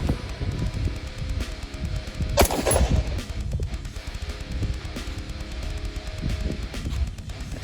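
Gunfire at an outdoor shooting range during a family range day, a sharp burst of shots standing out over quieter rustling and faint background noise, moderately near.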